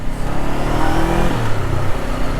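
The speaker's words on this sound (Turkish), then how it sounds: "çift silindirin sesi motosikletin ciğerinden gelen ses böyle bir tık güçlü olduğunu hissettiriyor insana" A Honda CBR 500R twin-cylinder motorcycle engine, new and still being broken in, revs in a steady low throbbing drone that rises and dips in pitch, close and continuous with no talk.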